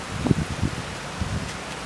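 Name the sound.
wind gust on tennis court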